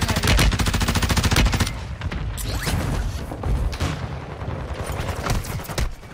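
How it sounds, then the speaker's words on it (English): Heavy, rapid bursts of gunfire and booming mortar explosions in a combat video game, loud and dense at the start, then scattered blasts and rumbling impacts continuing throughout. "Requesting mortar strike. Gonna find him again. Oh, mortared it. Mortar striking down."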